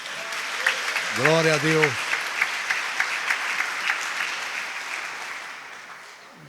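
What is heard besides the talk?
congregation applause at a prayer service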